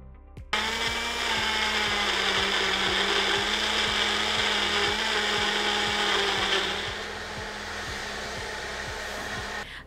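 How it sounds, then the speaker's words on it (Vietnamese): Compact BlueStone BLB-5310 single-speed blender with a 0.6-litre jar blending fruit: a loud, steady motor whine with rhythmic chopping pulses, starting abruptly and easing slightly near the end, no talk. "muốn cho máy xay thì mình chỉ cần lắp cối vào thân máy. Sau đó xay cho đúng khớp là máy chạy thôi, duy nhất một tốc độ"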